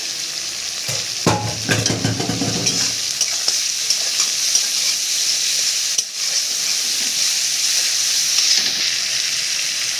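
Shrimp dropped into a pan with a little salt bursts into a loud sizzle with a rattling splash at first, then settles into a steady, even frying hiss with no talking.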